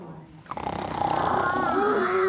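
A voice imitates a dinosaur's deep, rumbling snore, building into a long growling rasp that holds steady to the end.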